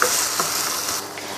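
Chicken qeema mince being stirred in a pan with melting cubes and oil, giving a steady close sizzle with soft scraping stir strokes throughout, no talking.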